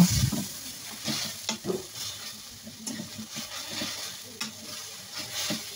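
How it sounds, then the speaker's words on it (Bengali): A spoon scraping and mashing boiled leafy greens in hot oil with cumin in a pan, giving irregular close stirring thuds and scrapes over a soft sizzle. "সিদ্ধ শাকগুলো তেলের উপরে দিয়ে দেবো। শাকগুলো এখন আমি চামচ দিয়ে ঘন্ট করে নেব।"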